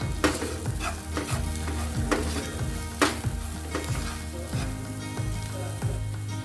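Samosa potato filling spices with salt and garam masala being stirred in a pan, with scraping spoon strokes and a light sizzle, close and steady without talk.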